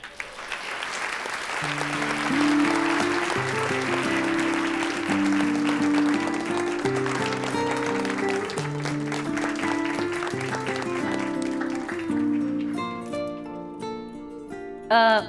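Sustained stage applause as Nayla Ünal is called up, a continuous wash of clapping that rises quickly and holds steady, blended with music playing throughout and a louder burst near the end.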